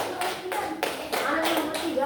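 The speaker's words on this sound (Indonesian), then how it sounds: "Tepuk tangan dulu untuk kelompok 3" A classroom of students claps for a group, with several distinct bursts of hand claps in uneven rhythm and children's voices chattering underneath.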